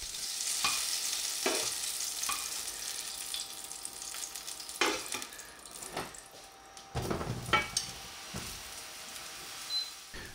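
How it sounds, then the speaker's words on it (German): Button mushrooms searing in rendered bacon fat, a soft continuous sizzle broken by several scraping stir strokes, close but fairly quiet with no voices. "weil in diesem Fett braten wir jetzt Champignons an."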